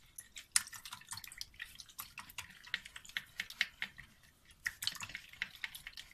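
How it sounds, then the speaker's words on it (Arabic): Milk poured over sugar in a bowl and beaten with a whisk by hand, quick light clicking strokes of the whisk against the bowl in an irregular rhythm, fairly faint and close, with no talking. "هحط عليه اللبن وهضربه"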